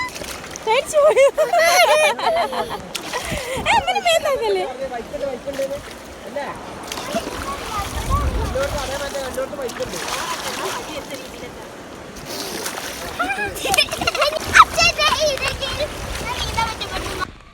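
Children shouting and chattering as cold stream water splashes and sloshes around them, lively and close, with bursts of excited voices throughout.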